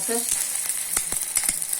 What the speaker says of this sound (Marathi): असं बुडवून मी असं तव्यावरती शेकणार आहे. मी तेल टाकले तव्यामध्ये.